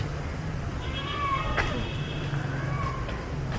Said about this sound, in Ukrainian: Коти дуріють зараз.